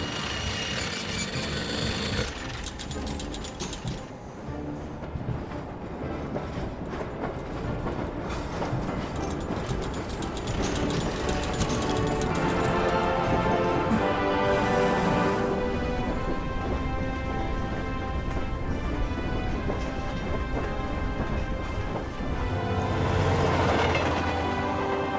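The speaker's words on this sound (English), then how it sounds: "Finally, a train departure." A train departs in the video game Syberia with continuous rumbling and clattering of rail cars, dense and steady throughout, with rhythmic mechanical clicks and a rising swell near the end.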